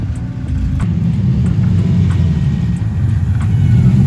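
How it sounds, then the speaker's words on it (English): A car engine idles with a steady low rumble, held close and fairly loud, with faint clicks over it. "I'm gonna move my car forward."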